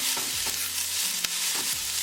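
Garlic and onion frying in a pan for a lamb curry tadka while being stirred, with a steady hiss of oil and a few soft scrapes of the spoon across two seconds.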